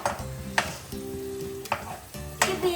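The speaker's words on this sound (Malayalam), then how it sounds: "അപ്പൊ നമുക്കിത് ഇളക്കി കൊടുക്കാം ഫ്രണ്ട്സ്, അല്ലെങ്കിൽ കരിഞ്ഞു പോകുന്നതാണ്" Raisins frying in a pan while being stirred: a steady soft sizzle broken by a few sharp scraping strokes and clinks of the spoon against the pan, close and fairly quiet.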